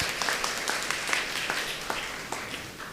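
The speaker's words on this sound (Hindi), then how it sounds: "तो मिस्टर रेजिमोन के लिए भी एक बार धन्यवाद के रूप में ताली बजाइएगा।" A church congregation claps in thanks after Holy Week liturgy, a sparse and fairly quiet spread of individual hand claps with distinct sharp hits scattered over a few seconds.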